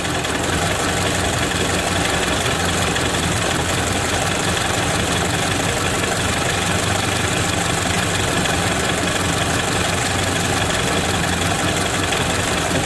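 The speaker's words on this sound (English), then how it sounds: "Listen to the engine." A Ford Model A engine idles at low rpm, a steady, loud running drone with an even low rumble and no pauses throughout.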